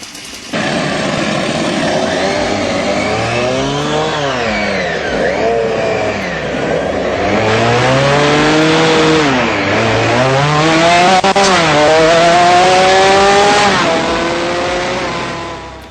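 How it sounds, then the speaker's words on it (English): A motorcycle fitted with 24 two-stroke chainsaw engines runs loudly and continuously, its combined buzzing engine note rising and falling in repeated revving sweeps. "It's a bike onto which 24 two-stroke chainsaw engines were installed, all of which start up and work quite well."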